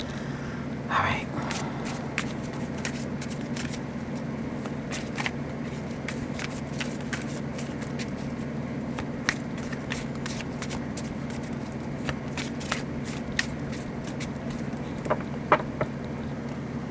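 Tarot cards are shuffled during a reading, a run of soft scattered clicks and riffles over a steady low hum, fairly faint and continuous.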